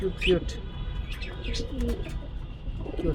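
Dove chicks in a pigeon loft give soft coos and brief chirps, close and fairly faint, against a steady low background hum.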